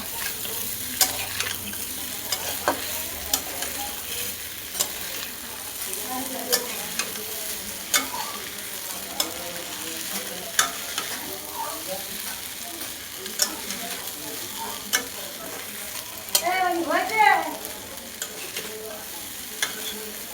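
Food frying in a pan is stirred with a utensil, soft scraping and clinks recurring over a low, continuous sizzle, with a busier burst of scraping near the end.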